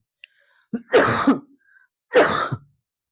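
A teacher in a maths lecture gives two harsh, close coughs about a second apart, each with a rough throat-clearing edge, separated by near silence.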